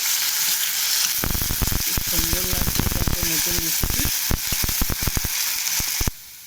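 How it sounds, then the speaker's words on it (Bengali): Cauliflower and potato pieces hit hot oil with a loud, crackling sizzle and sharp popping bursts up close, while someone talks briefly over the frying. "তো আমি এখন ফুলকপিটা তেলে দেওয়া হবে, আর আলুটা তেলে দেওয়া হবে। এটা আগে লাল লাল করে ভাজবো।"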